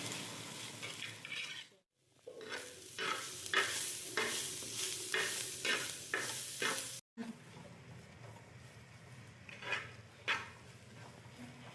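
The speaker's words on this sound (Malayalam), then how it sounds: "സവാള അതിട്ടിട്ട് നമുക്കിതിനെ നന്നായിട്ടൊന്ന് വഴറ്റിയിട്ട്" Onions being sautéed in a pan with scraping stirs, a rhythmic series of spoon strokes over a soft sizzle, broken by two brief cuts, then quieter occasional stirring.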